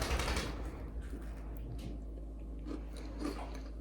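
Close crunchy biting and chewing of an orange creamsicle cookie, with a sharp bite at the start followed by softer, irregular crunches.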